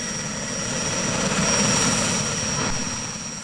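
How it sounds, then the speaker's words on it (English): Military helicopters carrying British paratroopers over Iraq in 2003: a steady, loud rotor and engine roar holding close throughout, with no talk. "the Paras are getting on helicopters and policing the roads from the air"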